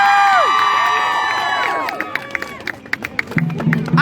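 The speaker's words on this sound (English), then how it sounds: "let's get claps for you!" A high school student walkout crowd claps and cheers, the sound mixed with voices and whistles, then breaks into scattered sharp claps that thin out before a voice rises at the end.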